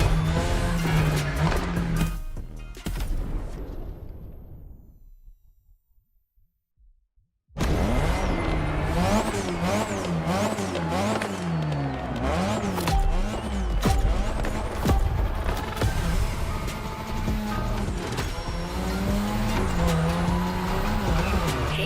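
A car drifts around a drift track in a racing game, tires squealing in long wavering howls over a revving engine, briefly cutting to near silence before the loud screeching and engine roar resume and continue.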